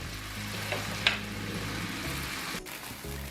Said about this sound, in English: I got my well marinated pinchitos on the fire, and they're not going to take long to cook